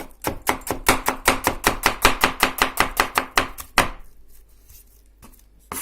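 A Yakut knife chops vegetables on a board in a quick, steady run of about twenty crisp, evenly spaced strokes, close and loud. The chopping stops abruptly near the end and leaves a quiet room.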